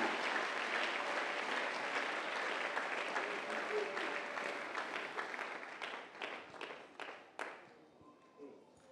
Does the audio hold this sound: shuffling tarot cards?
no